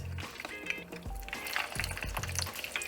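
Chicken wings sizzle and crackle in hot oil, a steady frying hiss with a few low thumps, close by and without speech.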